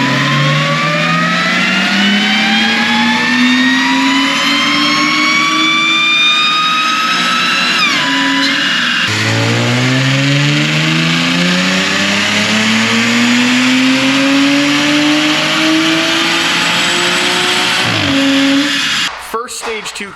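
Audi 3.0L supercharged V6 on a dyno, loud close engine revving in two long sweeping pulls with rising pitch and supercharger whine, each ending in an abrupt drop.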